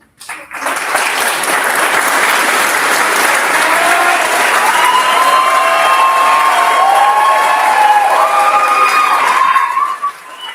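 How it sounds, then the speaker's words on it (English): Graduation ceremony crowd at Wenatchee Valley College Omak applauding academic achievers: loud, sustained clapping with cheers and whistles rising over it, swelling quickly and cutting off at the end. "let's give them a round of applause for their outstanding academic achievements"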